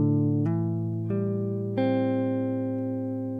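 A sustained electric guitar chord rings out, followed by a few hammered-on notes that change the pitch, clear and close with no talking.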